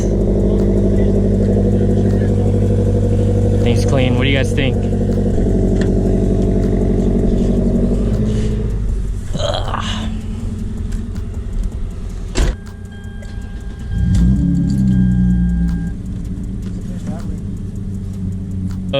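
A Scion FR-S with a straight pipe exhaust, with a loud, throaty idle and rumble that later eases off, alongside someone talking over it and some brief clicks and thumps.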